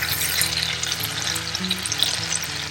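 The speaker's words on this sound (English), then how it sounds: "throw it in the butter" Fresh sage leaves sizzle in melted butter in a pan, a bright, busy crackle of frying that holds steady throughout with no talking.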